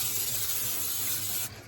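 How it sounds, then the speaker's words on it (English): Pam cooking spray hissing onto BBQ smoker grates in a steady, close burst that cuts off near the end, with no talking. "Use a little Pam."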